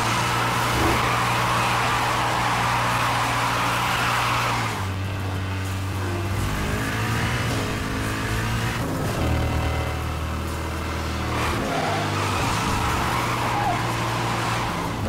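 A Lamborghini racing in Need for Speed Hot Pursuit Remastered, its engine droning loudly and shifting pitch through gear changes, with tire squeal mixed into the steady roar.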